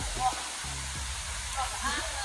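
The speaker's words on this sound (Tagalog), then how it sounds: "Andito kami ngayon sa ilog." Steady broadband rush of a river flowing, close and continuous, with faint low voices murmuring underneath at moments.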